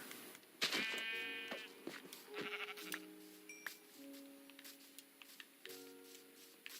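Several Minecraft sheep bleat in short, wavering calls over a faint steady hum and a few light taps, with no talk.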